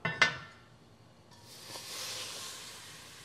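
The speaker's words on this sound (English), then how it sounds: "You hear that? Sizzle." Food dropped into a hot pan starts to sizzle after a couple of sharp clanks, the hiss swelling to a steady, close crackle.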